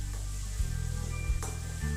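A sticky maize mixture sizzles in a kadhai as it is stirred into the tempering, a faint crackle over a heavy low rumble with a couple of brief spatula scrapes.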